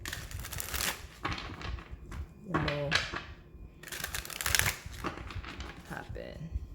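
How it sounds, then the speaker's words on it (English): Tarot cards shuffled in quick riffling bursts and crisp flicks, close and fairly loud, with someone speaking briefly between the shuffles. "Get a good little shuffle here."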